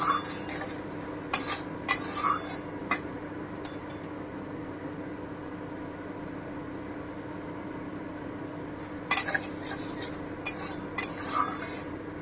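Spoon stirring food in a pan with coriander powder just added, soft scraping and rubbing strokes in bursts over a low steady background hum.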